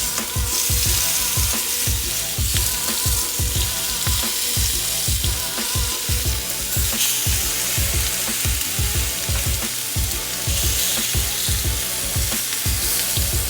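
Marinated lamb sizzling on a grill, a loud continuous frying hiss with steady rhythmic popping throughout.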